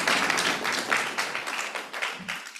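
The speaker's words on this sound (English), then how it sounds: "Let's give him a round of applause." Steady applause from a seminar audience, a dense wash of clapping that swells and dips slightly throughout.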